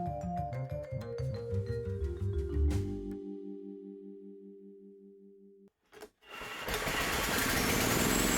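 A small engine fitted with a 3D-printed supercharger is cranked over to purge fuel, a rapid mechanical churning that winds down into a steady hum, followed after a brief gap by a loud rushing hiss.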